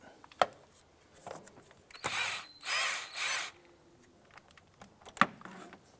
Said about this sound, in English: loosen this hose clamp using your 10mm socket